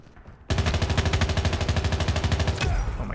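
Rapid automatic gunfire in the mobile shooter Call of Duty Mobile, a dense burst of evenly spaced loud shots lasting over two seconds after a brief quiet start, close and unbroken.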